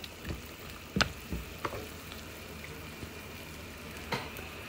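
Onion, tomatoes and pickled jalapeño sizzle in a pan for chicken sinigang, a soft continuous fry with a few sharp clinks and stirring knocks, with no voices.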